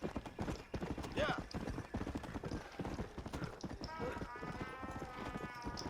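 Horse hooves clip-clopping rapidly in Red Dead Redemption: Undead Nightmare, a steady galloping rhythm with occasional whinnies, heard under ongoing talk.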